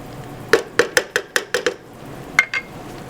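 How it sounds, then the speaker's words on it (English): Spinach, garlic and onion stirred in a pan with a utensil, producing about eight sharp metallic clinks against the pan in an uneven rhythm, close and loud in a quiet room. "Stir it around."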